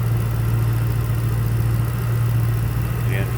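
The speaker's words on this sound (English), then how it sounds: "How smooth that engine's running." A 2008 Ford Mustang Shelby GT500's supercharged 5.4 liter dual overhead cam V8 idles with an open hood in a steady, close, even low rumble that holds unchanged from start to finish.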